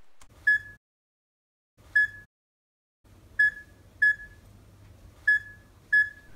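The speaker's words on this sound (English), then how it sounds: "every time you blink, you should hear a beep." The SpikerRecorder blink detector sounds six short, clean electronic beeps at uneven intervals, each one triggered by a blink, with faint low hum between them.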